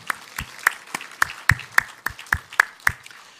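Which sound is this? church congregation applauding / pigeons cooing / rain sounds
church congregation applauding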